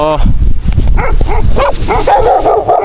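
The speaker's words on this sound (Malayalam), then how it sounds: "ആൻഡി ഓ ആൻഡി ഈ പട്ടി കാരണം മനുഷ്യന്റെ സമാധാനം പോയി അല്ലോ" A dog barks and yips in short bursts close by, mixed with a person talking.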